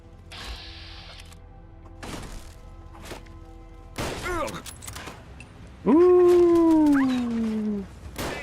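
Churchill the dog whines and howls in Fallout London, a rising then slowly falling tonal howl that swells loud near the end, following scattered mechanical clicks and a voice.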